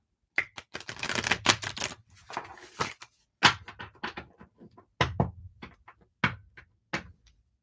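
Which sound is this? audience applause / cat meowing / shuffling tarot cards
shuffling tarot cards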